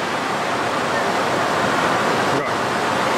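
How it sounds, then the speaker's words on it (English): Heavy rushing water roars steadily at close range on a theme park water ride in Manila, a continuous drenching splash filling the whole moment with one brief dip near the end. "Quite a big splash on this."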